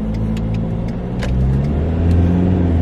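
A Ford Ranger pickup truck engine hums and accelerates onto a highway with rising tone, steady road noise throughout, heard from inside; no talking.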